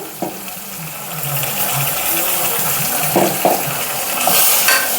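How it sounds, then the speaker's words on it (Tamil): Tomato, coconut, ginger and garlic paste sautéing in a pan, a steady close sizzle with stirring scrapes and occasional clinks, no talking. "நல்லா ஒரு ரெண்டு நிமிஷம் வதக்கி விட்டுடலாம்"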